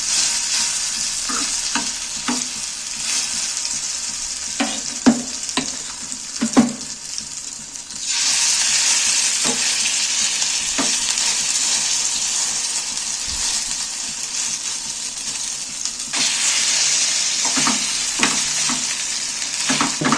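Rounds of egg batter frying in a little hot oil in a pan, with a steady close sizzle that swells louder as each round goes in, along with occasional spoon taps and no talk.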